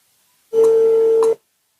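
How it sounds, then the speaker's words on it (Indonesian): A single steady telephone tone, loud and clean, lasting just under a second from a phone during a call, starting and stopping abruptly against silence. "Sebentar. Saya telepon sih ya."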